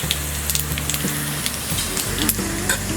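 Flat beans (val papdi) frying with curry leaves over high flame, a loud steady sizzle with sharp crackles and stirring knocks over a low hum.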